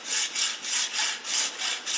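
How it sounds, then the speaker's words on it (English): A hand saw cuts a plastic piece off a stainless steel apple coring tool, with about eight even back-and-forth rasping strokes in a quick, regular rhythm, close and clear, with no voices. "After cutting off this plastic piece, you're left with a nice large stainless steel tube."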